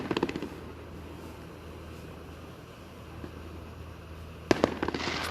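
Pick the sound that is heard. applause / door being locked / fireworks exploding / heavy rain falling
fireworks exploding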